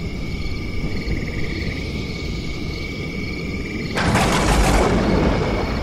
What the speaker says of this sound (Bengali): হঠাৎই আকাশ কেঁপে উঠল বিদ্যুতের চমকে। তারপরেই শুরু হলো তীব্র ঝড়।